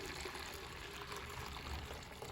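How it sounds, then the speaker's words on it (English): Syrup pours into a pitcher outdoors as a soft, steady liquid stream, faint and continuous for a couple of seconds with no talk over it. "I'm gonna pour our syrup into our pitcher."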